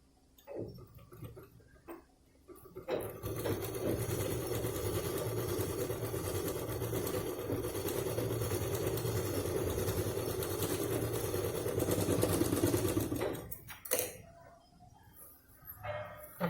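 A sewing machine stitches a zipper onto a cloth purse in one long, steady run of rapid, even ticking that lasts most of the clip, close by, with softer handling before and after.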